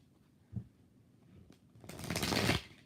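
Tarot cards shuffled by hand at close range, a small tap followed by a brief riffle that builds into a louder half-second burst of rustling cards, with no talking.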